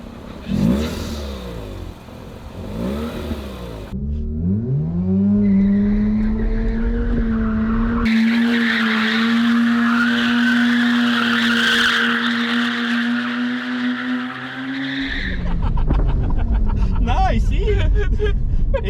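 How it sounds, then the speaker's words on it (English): Freshly rebuilt rotary-engine car revving hard, with a rising engine whine held high for several seconds, sharp bursts between revs and a blow-off valve whoosh, while people talk nearby. "You hear that blow off valve?"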